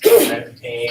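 A single sharp sneeze bursts out up close, followed by a brief spoken phrase.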